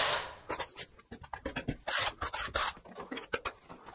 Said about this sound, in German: ich gehe mit der kleinen Spachtel so drüber und dann ziehe ich das einmal nur ab